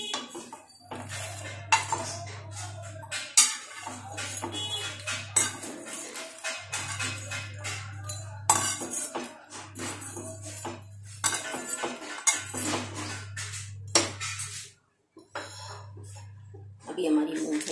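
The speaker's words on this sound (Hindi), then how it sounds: "इनको हम बर्तन में प्लेट में निकाल लेंगे" Roasted makhana are scraped and clinked from a metal pan onto a plate, with repeated light scraping and tapping of utensil on metal under steady talking in Hindi, and a low humming tone recurring in the background.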